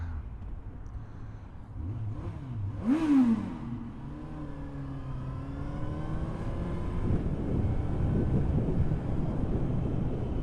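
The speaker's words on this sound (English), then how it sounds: "I'll give it one tunnel rev" A Kawasaki Z1000 motorcycle engine revs inside a tunnel. The revs rise and fall with a sharp blip, echoing off the walls, then settle into a rumbling, washy reverberation at moderate distance.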